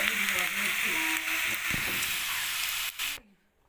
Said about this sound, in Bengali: দিয়ে আমি কচুটা আরও কিছুক্ষণ ভেজে নেব